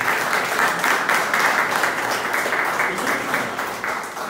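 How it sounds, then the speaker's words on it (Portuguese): An audience at a lecture claps steadily throughout, a dense, even wash of applause that holds at the same level until it eases slightly near the end. "a quem eu quero uma salva de palmas"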